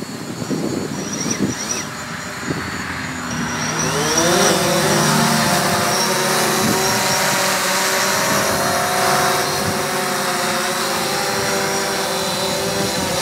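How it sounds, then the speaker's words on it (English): A DJI Phantom drone lifting off and hovering in an open field, its rotors a steady high whine that rises in pitch and loudness after a few seconds and then holds close and constant. "So there is Phantom in the air"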